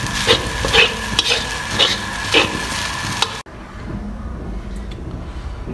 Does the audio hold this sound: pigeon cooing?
no